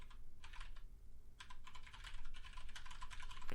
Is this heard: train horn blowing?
no